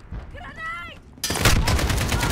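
Dense gunfire in Call of Duty: Modern Warfare, a loud sustained burst of rapid shots that starts abruptly after a short stretch of a high, tonal game sound.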